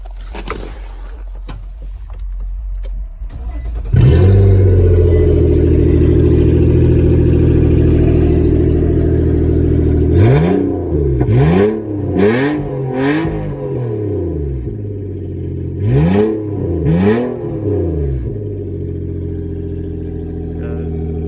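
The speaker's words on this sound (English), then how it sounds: "let's do a first start with the Motordyne art white pipe, see how the car sounds" A 7th-generation Nissan Maxima fitted with a Motordyne exhaust cranks and fires up into a steady, loud idle, then gets several short throttle blips that rise and fall in quick pairs, with a mid-pitched exhaust note throughout.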